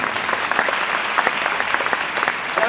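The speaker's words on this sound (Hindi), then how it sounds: "और तालियों में कंजूसी मत कीजिए" Steady applause from a large audience at a devotional convention in Newark, New Jersey, a dense continuous patter of many clapping hands filling the room without pause.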